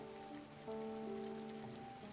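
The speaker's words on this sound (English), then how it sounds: "It's raining." Steady rain falls continuously on a surface, a constant patter with a low tonal hum running beneath it throughout.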